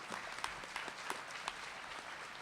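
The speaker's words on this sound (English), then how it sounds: "Go ahead and applaud." Audience applause at a morning breakfast gathering: a moderate wash of clapping from a mid-sized crowd, with a few sharper individual claps standing out, steady throughout without voices.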